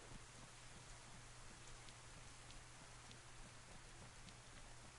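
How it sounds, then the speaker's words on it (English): Steady rainfall in the video game DayZ, a dense soft patter with occasional louder drops, constant and fairly faint with a low steady hum beneath. "No, it's raining."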